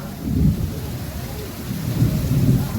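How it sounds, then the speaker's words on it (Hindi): Steady rain falls during a heavy outdoor downpour, with deep rolling thunder rumbling underneath and swelling twice, loud and continuous, with no clear speech. "बरसात हो रहा है, पानी बरस रहा है"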